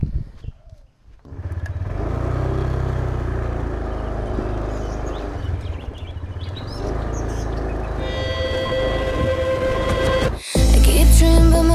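A rented scooter rides along roads on Ko Lanta island in Thailand early in the morning, its engine droning steadily and close for most of the stretch, with faint bird chirps in the background and a brief dip near the start.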